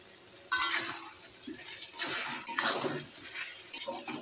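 Spice masala with cumin, turmeric, chilli powder and chopped tomatoes is stirred in oil in a pan, with several distinct scraping clanks of the utensil against metal over a low sizzle.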